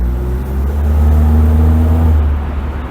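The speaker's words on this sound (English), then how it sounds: "being a supercharged 4-cylinder engine, it's still responsive" A 1996 Mercedes-Benz SLK 230 Kompressor's supercharged four-cylinder engine drones steadily and close, swelling slightly in the middle as if under light throttle, then easing off, with no voices over it.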